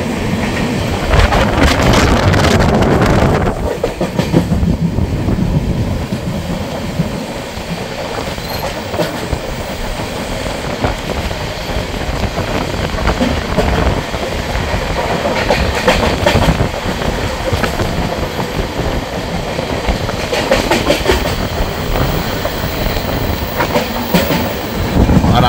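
The Sairang–Kolkata tri-weekly express runs on the rails, a loud, continuous roar of wheels and carriages with rhythmic clickety-clack and occasional wheel squeal, close and sustained throughout.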